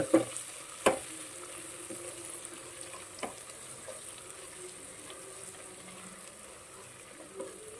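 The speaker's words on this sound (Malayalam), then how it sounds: "ഒരു ഗോൾഡൻ ബ്രൗൺ ആകുന്നിടം വരെ ഒന്ന് വഴറ്റണം സവാള" Sliced onions sauté in oil with curry leaves for a chicken stew, giving a faint, steady sizzle with a few sharp spoon clicks against the pan.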